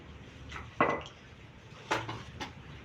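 Plates, a basin and spoons being fetched and handled for a Khmer-style papaya salad meal, giving a few sharp clinks and clatters of dishware close by with quiet gaps between them.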